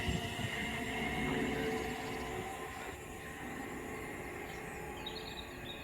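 A train accelerates hard on the West Coast Main Line at Hartford, heading toward Birmingham New Street. Its steady, close rumble and rail roar fade slightly midway, with no voices.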